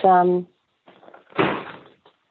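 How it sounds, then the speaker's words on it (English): A door bangs shut as someone walks in, giving a short thudding impact followed by a rattling, scraping stretch, with a voice heard briefly just before. "walked in the door and banged it"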